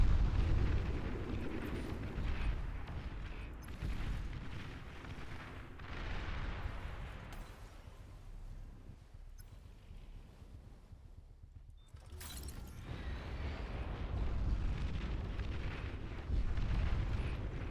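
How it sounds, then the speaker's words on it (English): In the real-time strategy game Beyond All Reason, a naval unit is blown up in water amid ongoing battle, heavy booming explosions and rumbling artillery-like blasts over a continuous low roar, no voices. "He's going to get himself blown up here because there we go. Destroyed."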